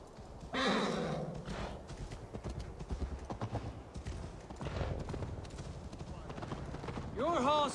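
Horse hooves clip-clop at a gallop in the Assassin's Creed Valhalla video game, a busy rhythmic beat under shouting voices and game sounds, with a whinny near the end.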